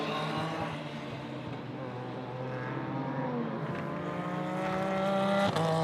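A GT race car at the Magny-Cours circuit in France threads through the chicane during the Ultimate GT Sprint Cup, its engine note rising and falling in a steady, close, continuous drone with a louder swell near the end.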